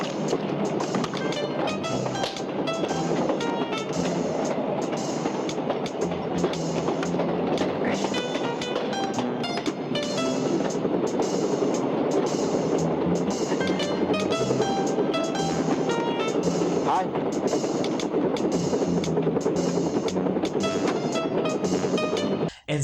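A moving train rumbles and clatters steadily in a 1980s Sammo Hung martial arts film scene, loud and continuous throughout with music-like layers over the rail noise.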